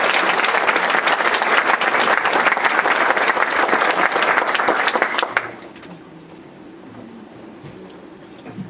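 Loud, dense clapping from a crowd cheering students at a Pasadena school board meeting, lasting about five seconds then stopping abruptly into a low room hush.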